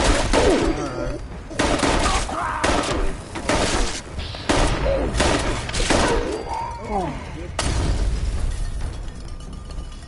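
Gunshots in Fallout 76, heavy repeated bursts cutting in and out across the whole stretch, loud and close, with people talking between them.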